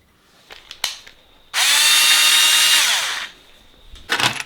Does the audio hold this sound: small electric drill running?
yes